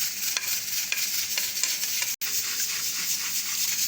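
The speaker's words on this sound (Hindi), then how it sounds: "साथ ही हम इसमें ज़ीरा डाल देंगे" Cumin seeds sizzle steadily in a spoonful of hot oil, a dense bright crackle that holds for about four seconds with one sharp momentary break, no voices.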